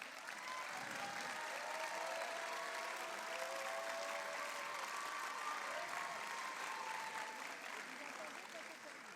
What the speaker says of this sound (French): j'aimerais qu'on les applaudisse très très fort parce qu'ils ont fait preuve de courage